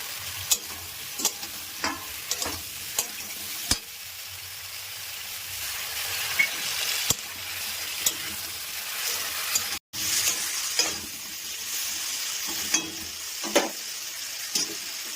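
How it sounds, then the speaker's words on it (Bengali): Yam pieces with salt and turmeric fry in a hot pan under a constant sizzle. A spatula knocks and scrapes against the pan at irregular intervals, close by and fairly loud, with a short gap partway through. "এবার মেটে আলুগুলো দিয়ে দিচ্ছি।"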